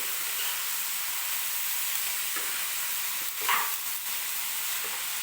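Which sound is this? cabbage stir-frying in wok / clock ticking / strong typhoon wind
cabbage stir-frying in wok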